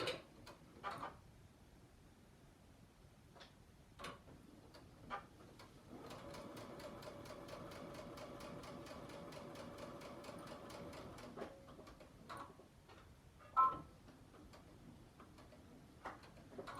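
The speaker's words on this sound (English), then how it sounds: "So I'm going to back stitch at those 2 little spots." A sewing machine with a 1/4-inch foot back stitching fabric for a Christmas tree mug rug, running in one steady, rapid mechanical whir of about five seconds, with scattered soft handling taps before and after.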